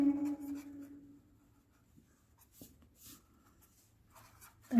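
Chalk or marker writing on a classroom board during a maths lecture, several short scratchy strokes with pauses between them, close and clear, with a faint voice tone at the start and end.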